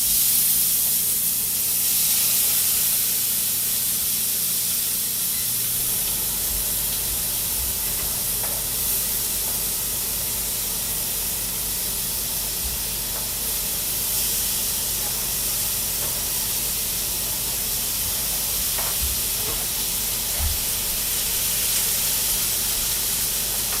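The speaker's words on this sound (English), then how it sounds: "So we're going to put the artichoke hearts right in" Artichoke hearts searing in a hot pan give off a steady, loud sizzle and hiss that runs unbroken throughout, with a few faint clicks and knocks near the cooking.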